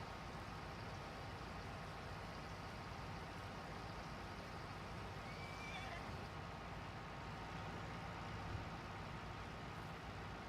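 Horses at a paddock in the Farming Simulator 19 video game, with a faint whinny rising midway over a constant low vehicle drone and no talking.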